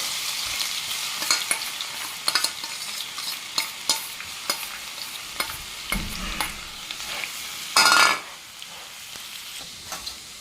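Crushed garlic and chana dal sizzle in hot oil while being tempered for a tomato pickle, with steady frying crackle, repeated spoon-stirring clinks, and a louder burst of sizzling near the end; no one speaks.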